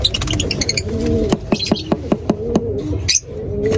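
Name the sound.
African lovebirds in a mini aviary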